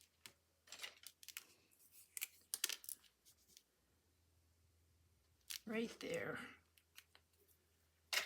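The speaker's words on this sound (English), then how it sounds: "let's just do it with our scissors and hope we can" Scissors snip repeatedly through scrap paper or cardstock while a tag pocket folio is being made, giving close, crisp cuts in short bursts, with some rustling and quiet speech in between.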